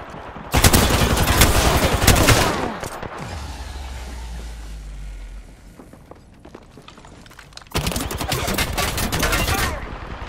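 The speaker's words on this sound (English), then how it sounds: "Shots fired and they're hitting me." Rapid automatic gunfire from the video game Apex Legends during a 3v3 Arena match, in loud sustained bursts at the start and end with a quieter stretch of game sounds between them.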